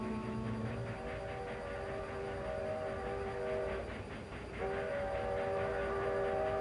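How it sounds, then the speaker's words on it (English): An eastbound freight train goes by in an old film scene, a low rumbling roll with a steady horn-like tone that breaks off briefly and resumes, moderately distant, with no voices. "That's the eastbound freight."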